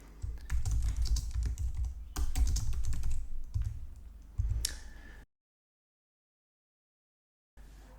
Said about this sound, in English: So then I can type in some text in here.